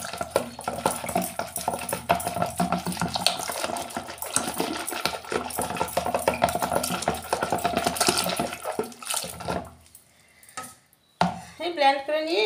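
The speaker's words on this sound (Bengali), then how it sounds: "এবার হাঁড়ির মধ্যে জল দিয়ে মথানি দিয়ে আরেকটু ঘেঁটে নেব।" Butter and water stirred in a pot with a wooden churner while making ghee, giving dense, continuous clattering and sloshing for most of the stretch before a brief pause and a short burst at the end.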